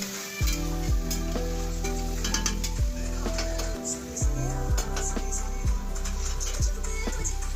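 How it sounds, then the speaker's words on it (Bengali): Vegetables for fried rice sizzle in a pan, a steady frying hiss broken by repeated scrapes and clinks as they are stirred, with a faint voice in the background. "ও ততক্ষণ ফ্রাইড রাইসের ভেজিটেবলগুলো ফ্রাই করছে"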